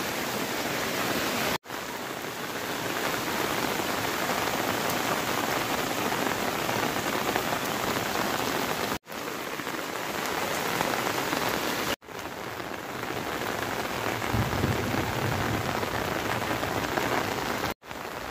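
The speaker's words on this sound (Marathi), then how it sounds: "बऱ्याच दिवसातून पावसाने आपली हजेरी लावलेली आहे, म्हणजे हा परतीचा पाऊस आहे" Monsoon return rain falls in a steady, loud, continuous hiss across the whole stretch, with only a few brief cuts and no voices.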